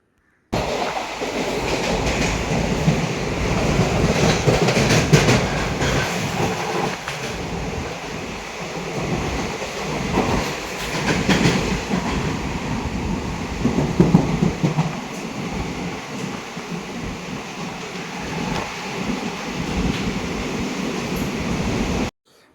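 A train rumbles steadily through a railway tunnel between Byndoor and Murudeshwar, echoing in the enclosed space, with rhythmic clatter of wheels on rails and a dull, constant roar throughout.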